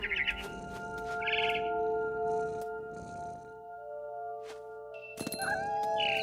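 A cat meows in the video game What Remains of Edith Finch, with a few close, plaintive meows at the start and again near the end, over a low sustained musical backdrop with faint chirps.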